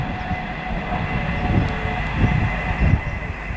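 Rear of a Class 91 electric locomotive on an Edinburgh to London express tearing through a station on the East Coast Main Line at speed, a loud steady rail roar with rhythmic wheel thumps over the joints and no voices.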